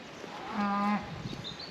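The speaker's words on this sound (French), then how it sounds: "Il y a les vaches qui appellent de l'autre côté, les laitières." A dairy cow on a farm gives one clear moo lasting about half a second, from a moderate distance, over outdoor ambience with no talk.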